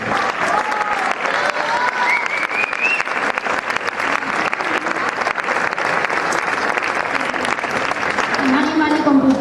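A crowd claps steadily and densely for nearly ten seconds at a Mapuche protest gathering, loud and close, with some voices and calls mixed into the applause.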